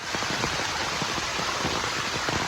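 Rainwater rushes and streams down during a heavy downpour, a close, continuous watery hiss with a gurgling texture and no voices.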